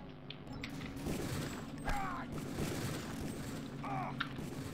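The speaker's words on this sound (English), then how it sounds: "Fire weapon." Deus Ex 2 weapon fire on Liberty Island: a few separate sharp shots, fairly quiet, over a low droning game background.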